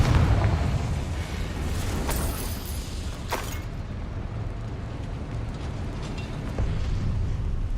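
A Confringo fire spell bursts in the Hogwarts Legacy game, a loud rumbling blast with sharp crackling flashes that settles into a sustained roaring, fiery wash lasting several seconds.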